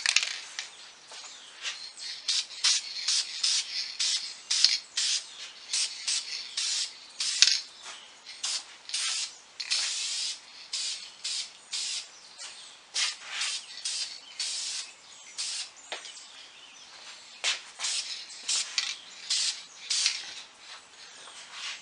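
Aerosol can of Deft satin lacquer sprayed onto furniture in a long series of short hissing bursts, each a few seconds long with brief gaps between, fairly close and with no talking.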